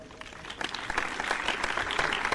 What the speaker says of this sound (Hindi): मैं आपसे गुजारिश करता हूं कि कुंडू साहब के लिए ज़ोरदार तालियों से उनका इस्तकबाल करें।